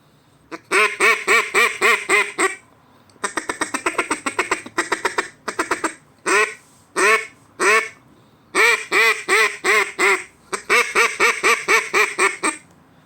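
An acrylic duck call blown in rapid rhythmic series of loud quacks, bursts of several calls separated by short pauses, close and clear.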